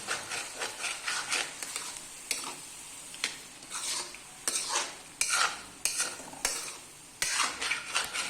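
Swan meat frying in a pan with browned onion and a garlic, ginger and chilli paste, with a steady sizzle broken by repeated scraping stirs of a utensil against the pan, close and moderately loud.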